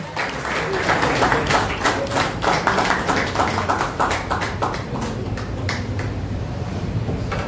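Applause from the audience at a book launch ceremony in Dombivli, a burst of brisk, dense clapping from a room-sized crowd that thins out toward the end into scattered claps and taps.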